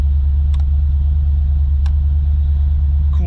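1988 Corvette with a 5.7L L98 V8 idling, a steady deep low rumble held close and even throughout, with a few faint clicks over it.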